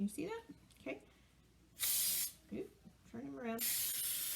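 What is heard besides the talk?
cooking spray on a cake pan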